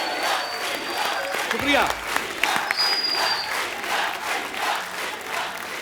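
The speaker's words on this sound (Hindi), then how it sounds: "जोरदार तालियां" Studio audience applause and cheering on a comedy talk show, a sustained wash of clapping with whoops rising over it, loud and close, with a brief spoken thank-you and whistle-like voices.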